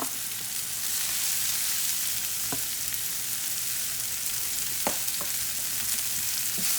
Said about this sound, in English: now I'm going to add my cabbage